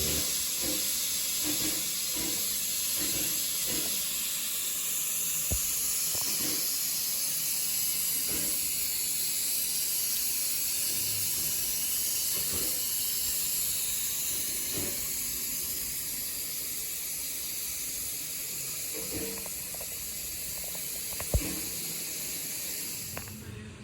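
A steam locomotive at a Polish station on a Wolsztyn line gives off a steady, loud hiss of escaping steam that runs throughout, with faint clanks and knocks underneath and no talking.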